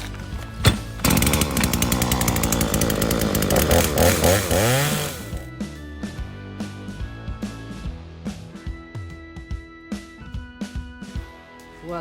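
A EURO 1700+ petrol chainsaw roars loudly at high revs for about five seconds, then drops to a rough, sputtering idle with irregular pops, close by with no talk.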